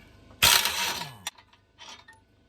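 A Harbor Freight Earthquake impact wrench hammers out a 19mm CV axle bolt on a 2003 Honda Element in a single loud, close burst of about a second, followed by a sharp clack and faint rattling.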